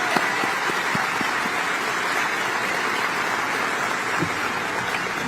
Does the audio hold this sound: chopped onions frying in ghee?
no